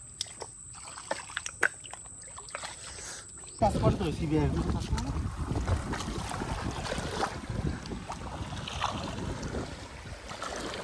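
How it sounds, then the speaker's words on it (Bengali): A fishing boat is shoved off the riverbank into the water, with a sudden surge of rushing water and scraping as it moves, under heavy wind buffeting and people talking close by. "নৌকা নিয়ে আমরা পড়বো নদীতে"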